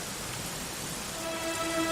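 Steady rain falling in the Dragon Quest XI video game, a soft broadband hiss that holds even throughout, with a faint tonal music line entering near the end.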